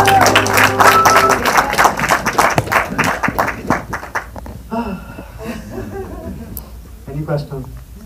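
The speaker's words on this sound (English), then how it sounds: "So just a round of applause for Natasha." An audience at a film festival Q&A gives a round of applause, dense clapping loud at first and thinning out to scattered claps, with a voice talking over it as it fades.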